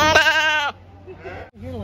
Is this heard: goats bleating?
yes